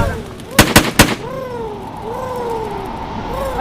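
Three sharp, loud gunshots in quick succession from a shooting video game, followed by warbling tonal game sounds.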